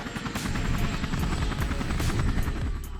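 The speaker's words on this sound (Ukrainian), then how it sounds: "Вертольоти відпрацювали по ворожих позиціях з метою їх подавити." Military attack helicopters firing on enemy positions on a front line near Bakhmut: a steady, fairly loud rotor chop pulses throughout with a rumbling low end, and no voices.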